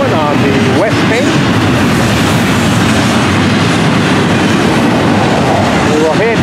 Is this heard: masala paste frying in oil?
no